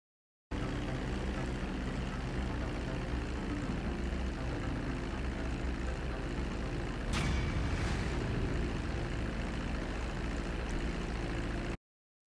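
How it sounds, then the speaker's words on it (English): A propeller airplane engine in the video game GTA 5 drones steadily and loudly as the plane comes in to land, with a brief sharp thud partway through and no speech. "I'm going to fast forward through to where Trevor lands the airplane"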